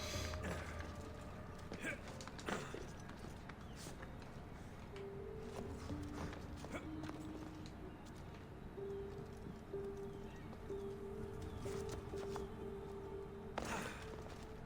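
Horse hooves clip-clop steadily through a game scene in Assassin's Creed Odyssey, a moderate rhythmic tread set among ambient game sounds and brief tonal cues.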